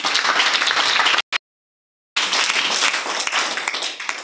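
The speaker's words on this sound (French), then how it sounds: "Est-ce qu'on peut acclamer pour la suite?" A church congregation bursts into loud, dense applause, with a short silent gap partway through before the clapping resumes and gradually eases off.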